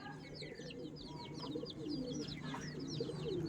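Pigeons coo and call steadily in a racing-pigeon loft kept by a tournament-winning fancier, a dense layer of soft bird sounds with a low murmur underneath throughout.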